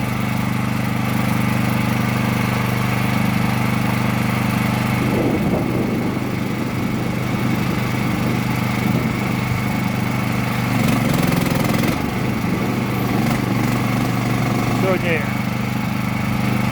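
A mini loader's engine runs steadily nearby during mechanised laying of paving tiles, a continuous droning hum with slight rises in load as the machine manoeuvres, and someone talking over it.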